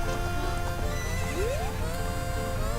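Epona the horse in Zelda Ocarina of Time gives a rising whinny over a steady backdrop of game music and trotting hoof clip-clops, clear and close.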